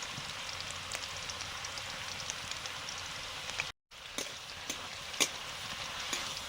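Ash gourd sizzles and spits in a pan as mustard paste is added, a steady close frying hiss broken by brief pops and a short dropout, with no talk.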